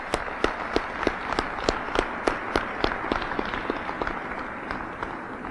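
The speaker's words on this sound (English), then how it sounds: "So if you could just get another round of applause." Audience applause at a Cleveland LGBT Heritage Day celebration, a crowd clapping steadily with sharp distinct claps standing out in a fairly regular rhythm, fading slightly toward the end, no voices over it.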